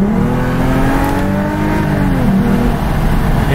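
A Lexus IS 350 in power mode accelerates with a steady, loud engine drone whose pitch climbs smoothly, heard from inside the car with no talking.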